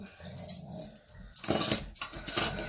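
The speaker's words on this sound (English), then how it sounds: "You hear the dogs? They're playing." Dogs playing indoors in a home kitchen, giving short bursts of growly, scuffling noise and brief whimper-like sounds that rise and fall over a few seconds, fairly close, with faint clinks in between.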